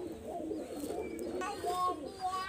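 KTM pigeon chicks, zero-feather babies, make soft cooing and chirping calls in a loft, with a steady murmur of bird sound and a few brighter chirps near the end.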